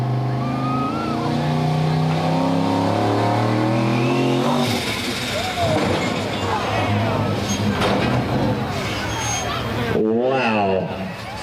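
A turbocharged LS-engined pulling vehicle revs hard at a county fair truck and tractor pull, a loud sustained roar rising and falling in pitch, with an announcer talking and crowd chatter underneath.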